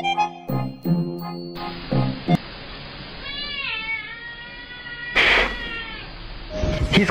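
A cat meows several times, with drawn-out, wavering cries close to the microphone, one rising into a louder yowl near the end.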